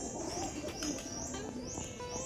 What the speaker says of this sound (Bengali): প্রচুর পায়রা রয়েছে এখানটায়